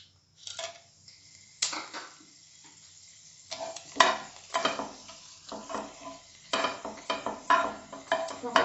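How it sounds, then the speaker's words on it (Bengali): Dry red chillies sizzling in hot oil for Karnataka-style lemon rice, with crackling bursts and repeated spatula stirs against the pan, loud and close. "এবার তেলে আমি শুকনো লঙ্কা দেব"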